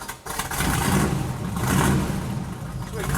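An Alvis car engine burbles steadily at close range, a low throaty rumble that swells slightly midway, with people talking over it.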